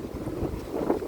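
Strong wind buffets the microphone in a low, rumbling roar that swells and gusts throughout the short moment.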